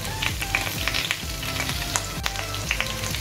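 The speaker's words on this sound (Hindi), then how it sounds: "अदरक और लहसुन फ्राई हो चुके हैं, अब इसमें डाल देंगे 1 बड़ा साइज का कटा हुआ प्याज" Ginger, garlic and a large chopped onion fry in oil in a pan for Indian-style pasta, giving a close, steady sizzle with light stirring scrapes and no voices.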